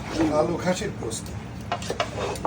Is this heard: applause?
no